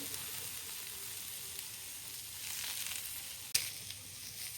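Onions and coriander leaves frying in a pan give a soft, steady sizzle, fairly quiet, with one sharp utensil knock near the end.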